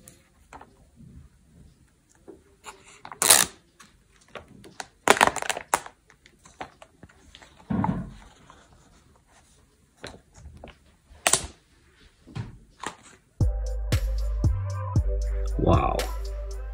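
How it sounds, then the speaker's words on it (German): Protective film being peeled off a Samsung Galaxy Z Fold 2, heard as scattered sharp crinkles and tearing rasps with pauses between, close and fairly loud, ending with a burst of steady electronic tones. "Die Folie kommt ab."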